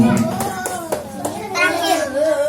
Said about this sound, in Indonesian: Tepuk tangan buat Wilda.